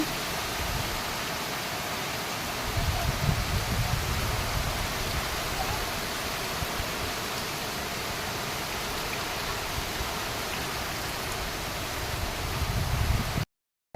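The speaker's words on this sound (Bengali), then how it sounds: "খুব জোর বৃষ্টি হচ্ছে।" Heavy rain pours down in a dense, steady hiss that fills the whole stretch, loud and continuous with slight swells, alone without any voices, before cutting off abruptly at the end.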